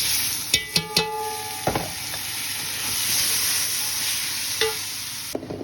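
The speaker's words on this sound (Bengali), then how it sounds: "আমার এখানে চালটা ভাজা হয়ে গেছে" Rice fries in a pan for chicken pulao with a soft, even sizzle and hiss, broken by a few quick ringing taps and scrapes of a stirring spoon.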